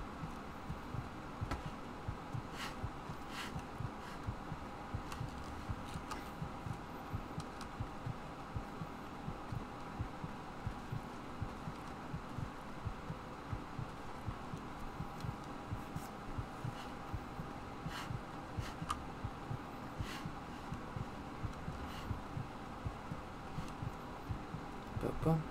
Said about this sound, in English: the fucking heartbeat is just as annoying as the Zelda noise